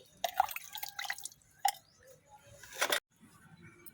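Water sprinkled by hand onto seedling soil in a terrace garden tray, heard as a few close, quiet drips and short splashy bursts separated by near silence.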